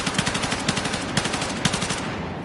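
Rapid automatic fire from an M277 carbine in the video game Battlefield 6, a steady stream of loud close shots with a few heavier cracks, continuing alone for the whole stretch.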